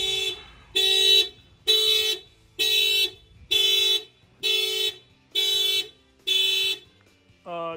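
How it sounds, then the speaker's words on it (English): A 2023 Subaru Crosstrek car alarm blares in a steady repeating pattern, eight loud identical bursts of about half a second with short gaps, then a different rising tone starts at the end. "the vibration of the pipes sets off the alarm system."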